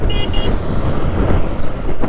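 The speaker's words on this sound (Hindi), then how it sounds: "हॉर्न मार रहा है हॉर्न" A vehicle horn gives two short toots amid loud, rumbling road traffic nearby.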